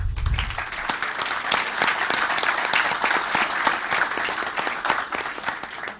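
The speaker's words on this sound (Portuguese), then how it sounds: "Palmas para eles." Studio audience applause at a televised Rio de Janeiro governor's debate, sustained crisp clapping at a steady level with distinct individual claps standing out across the whole stretch.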